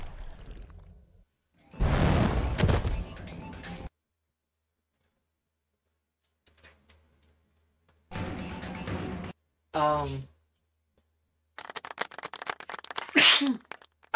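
A single short, sharp sneeze stands out between stretches of silence and bursts of talk and game sounds.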